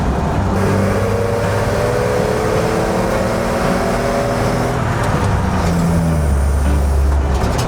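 A truck cruises along a backroad at about 28 miles an hour, its engine a loud, steady drone with road rumble that rises slightly in pitch near the end, and no one speaks.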